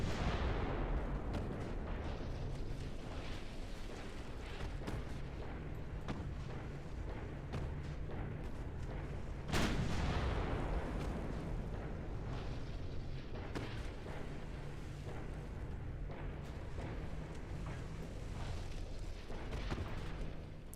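Heavy warship guns boom repeatedly in the naval battle game Ultimate Admiral Dreadnoughts, with Italian heavy cruisers in action; dense, rumbling salvos roll continuously, with one especially loud, sharp blast near the middle.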